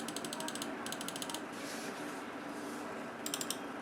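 A computer mouse scroll wheel clicks in quick rhythmic bursts of tight ratcheting ticks, close and fairly faint over a low background hum, with a long pause between groups.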